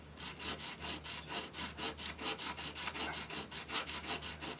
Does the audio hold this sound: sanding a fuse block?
yes